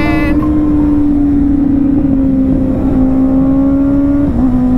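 A motorcycle engine runs at a steady, loud drone close by, its pitch holding nearly constant with a slight drop near the end, with faint voices underneath.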